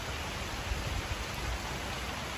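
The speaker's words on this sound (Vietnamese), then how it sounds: "Trời mưa tới thui luôn cả nhà ơi. Đang mưa luôn." Steady rain pours down outdoors in a rural Vietnamese setting, a dense, even hiss of falling water with soft low patter, continuous and fairly loud throughout with no voices.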